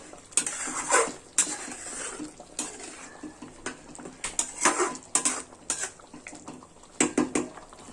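Paneer pieces frying in a pan for masala gravy, with sharp clatters of a utensil against the pan and wet sizzling patter in irregular bursts, close and fairly loud with no talk.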